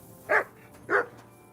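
A dog barks twice in Kingdom Come: Deliverance II, two short, clear woofs about half a second apart, close by over a quiet background.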